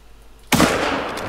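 A single loud rifle shot in the hunting game theHunter Call of the Wild cracks sharply after a quiet moment and rings out with a long decaying tail.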